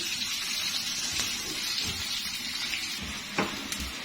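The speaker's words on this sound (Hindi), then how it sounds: "प्याज को हमें ब्राउन करना है। इसको 4-5 मिनट लगेंगे ब्राउन होने में।" Onions frying and browning in a pan for a Mughlai chicken changezi, a steady close sizzle with soft crackles and a few sharper pops, no talking.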